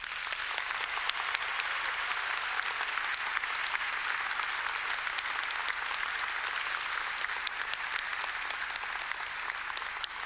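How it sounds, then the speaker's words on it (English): A hall full of people claps steadily at a Monash University graduation ceremony, a dense, even round of applause that holds at the same level throughout. "a round of applause."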